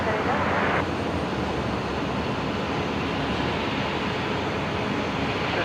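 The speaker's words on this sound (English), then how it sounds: "Qantas Link 1924 next. Embraer coming from Hobart." A QantasLink Embraer jet arriving from Hobart at Brisbane Airport at night gives a steady, loud broadband engine roar, heard alongside air traffic control radio chatter.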